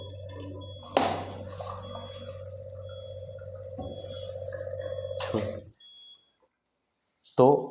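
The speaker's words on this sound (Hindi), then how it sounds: "तो मैं आपके सामने यह मशीन का पानी ले रहा हूँ।" Water pours from a Kangen water machine into a glass with a steady tonal gurgling stream that starts with a click, runs for several seconds, then stops abruptly, followed by a brief knock at the end.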